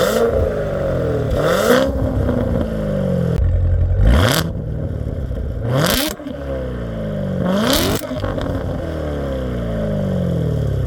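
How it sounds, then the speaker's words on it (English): Chevrolet Corvette C7 Z06 with active exhaust revving repeatedly, four or five sharp throttle blips rising and falling over a steady loud idle, close by with no talk. "this is an active exhaust, so when you switch between the drive modes, your exhaust notes change"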